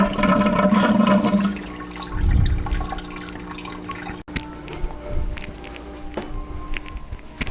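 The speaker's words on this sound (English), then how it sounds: "it's gonna rinse the filter out and put it back in there" Water runs and splashes as a hang-on aquarium filter is rinsed, a loud, close gush that surges, briefly cuts out, then trickles and drips, with no voices.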